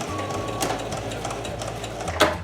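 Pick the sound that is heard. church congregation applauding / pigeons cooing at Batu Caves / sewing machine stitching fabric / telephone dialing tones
sewing machine stitching fabric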